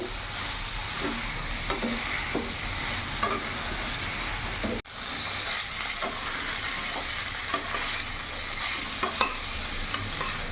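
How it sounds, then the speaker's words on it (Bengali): Fried cauliflower and potatoes are stirred into a spice masala in a pan, with a steady sizzle and repeated scraping strokes of the spoon, close and without talk. "এবার ভেজে রাখা ফুলকপি আর আলুগুলো আমি পুরোটা দিয়ে দেবো। ভালো করে মশলার সাথে মিশিয়ে নেবো এইভাবে।"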